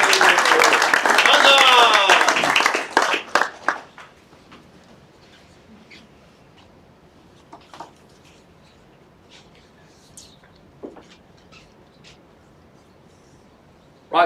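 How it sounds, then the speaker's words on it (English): Auction-room audience applauds an introduced auctioneer: a dense burst of clapping for about three seconds, tapering into scattered claps, then near-quiet room noise with a few faint stray sounds. "Give him a great round of applause, please."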